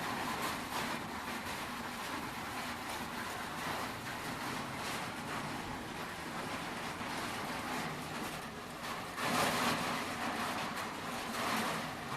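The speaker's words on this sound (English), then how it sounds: "you can hear it's just pouring rain outside on my back porch there" A dense, steady wash of heavy rain pouring down onto a back porch outdoors, loud and continuous without pause, with slight swells in intensity toward the end.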